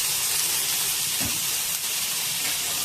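Ginger, garlic, onion and tomato frying in hot oil give a loud, steady, close hiss that stays unbroken throughout, with no talking.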